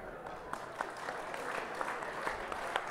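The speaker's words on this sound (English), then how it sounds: "start clapping." A live audience of people clapping together, a soft, fairly distant patter of many hands that swells slightly with a few sharper claps standing out, with faint murmuring underneath.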